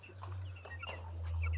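Chickens cluck close by in a farm setting, a run of short clucks and calls over a constant low background hum.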